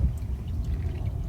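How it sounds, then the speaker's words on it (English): Transmission oil pouring steadily into a Jeep ZF-8HP transmission during an oil pan change, a continuous low gurgling pour, close and even throughout, with no talking. "I refilled it right now, which is the full 3 quarts"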